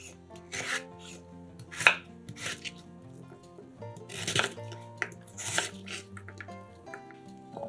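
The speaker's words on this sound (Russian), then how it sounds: "Нарезаем кубиками одну сырую свеклу среднего размера." A knife chops a raw medium beet into cubes on a cutting board, with irregular crisp knocks and slicing strokes, close and fairly quiet, with no voice over them.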